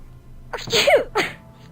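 A single sneeze from a character in the game Amnesia: My Love, a sharp close burst with a breathy intake followed by a second short exhale, heard alone.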